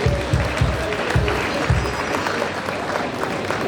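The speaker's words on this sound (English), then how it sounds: "Can we give him a round of applause, please?" An audience applauds the newly sworn-in chairman of the NITP Lagos Branch at his investiture, steady crowd clapping with a few heavy low thumps early on, sustained for several seconds with faint voices.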